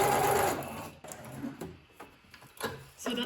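A domestic sewing machine stitches a longer, narrower stitch in a craft project, its needle ticking in quick close bursts that stop, start and vary in speed, with a faint voice underneath.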